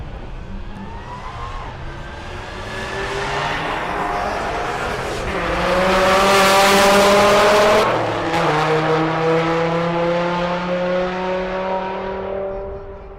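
IndyCars racing at a Rocky Mountain Race Week event roar past on track, their engines rising in a loud, steady howl that peaks mid-way and then settles into a sustained high-pitched drone with shifting engine tones.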